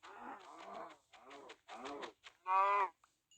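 Cows in the video game Minecraft give a run of about five short, clear moos with brief gaps between them. The last call is the loudest, and the whole run is heard on its own, without talk.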